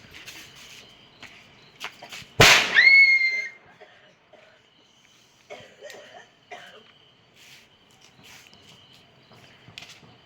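A single firecracker bursts with a sharp, loud crack during a Christmas-season outing in Kerala, followed by a brief fizzing hiss and fading whistle, then quiet footsteps and faint background sounds.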